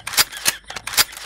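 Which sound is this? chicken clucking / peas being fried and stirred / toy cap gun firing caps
toy cap gun firing caps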